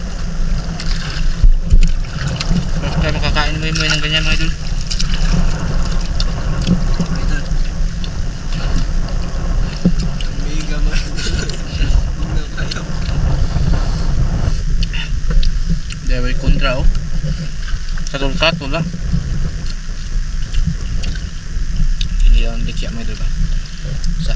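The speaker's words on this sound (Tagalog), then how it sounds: "hangin sobrang lakas" Strong wind roars steadily across the microphone throughout, with a low rumble and gusty buffeting, while voices talk intermittently underneath.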